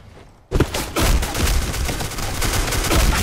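Dense, continuous gunfire in the video game Black Squad, beginning abruptly after a brief quiet moment, then rapid overlapping shots and automatic bursts that stay loud and close throughout.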